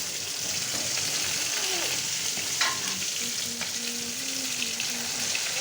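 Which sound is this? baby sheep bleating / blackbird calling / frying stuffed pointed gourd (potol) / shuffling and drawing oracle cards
frying stuffed pointed gourd (potol)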